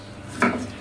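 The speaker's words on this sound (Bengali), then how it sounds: "তারপরে পটলটাকে আমি এরকম পাতলা পাতলা করে স্লাইস করে নিব।" A knife draws once through a pointed gourd (potol) to cut a thin slice, giving a single short, close scrape against the cutting surface.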